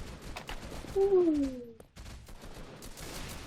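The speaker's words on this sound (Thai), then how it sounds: "ตอนนี้ยิงกันนัวมากเลย" Gunfire in a shooting video game, a few sharp bursts with a falling tone and scattered shots at moderate level.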